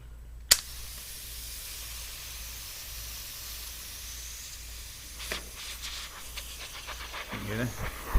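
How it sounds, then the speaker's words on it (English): A sharp click, then quiet, then CO2 gas hissing out of an airsoft grenade's threads in short sputtering spurts that grow stronger near the end. "So the CO2 is coming out right out here."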